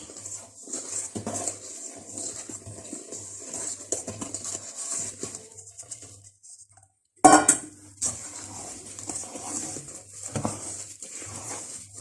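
A spatula folds flour into brownie batter in a bowl, lifting from the bottom to the top, making soft scrapes and light clinks that pause briefly partway before resuming. Nobody speaks.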